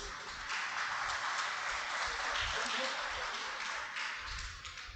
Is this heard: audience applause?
yes